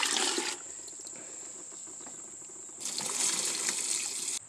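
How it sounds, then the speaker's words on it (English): Murky water poured into a homemade biochar filter, a close gushing splash that eases into a soft trickle, then swells into a second louder rush before cutting off. "Just going to pour it over here and see what happens the second time."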